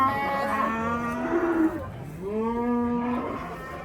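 A cow moos twice, close by, at a livestock market. Each is a long, low, drawn-out call that rises and falls, with a short pause between them.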